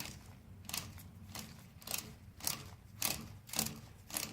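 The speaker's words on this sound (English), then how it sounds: "that's the sound of the rollers hitting the cam." Faint, close mechanical clicking of fuel injection pump rollers striking the cam as the drive shaft is turned by hand, coming in a steady rhythm of soft ticks about every half second.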